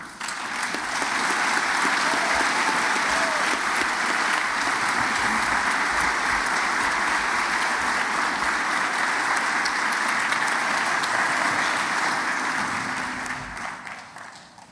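Sustained audience applause for graduating students at a university commencement in a concert hall, a dense, even roar of clapping that swells quickly, holds steady, then tapers at the end.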